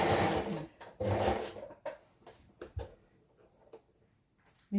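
A sewing machine stitches fabric for baggy pants in bursts, a longer run of motor whir at the start and again near one second, followed by short scattered clicks and pauses.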